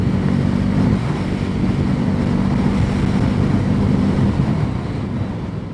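A Bajaj Pulsar NS400Z motorcycle is ridden on a road at around 75 to 80 km/h, with a loud, steady engine drone and heavy wind rush that eases slightly near the end.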